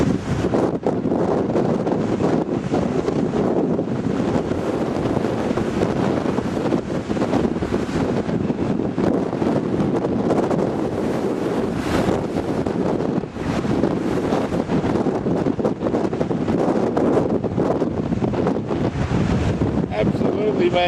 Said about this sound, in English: There's spray coming up over me. It's cold. It's windy.